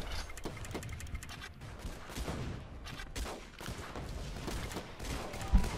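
Rapid, continuous gunfire from sniper towers in the strategy game Guns Up!, a steady crackle of shots with no pause and occasional heavier bursts.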